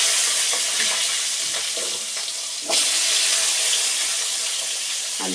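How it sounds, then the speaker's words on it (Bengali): Potatoes fry in hot oil seasoned with turmeric and salt, giving a continuous close sizzle with scattered stirring scrapes and a brief surge partway through. "আলুটা আমি ভেজে নেব।"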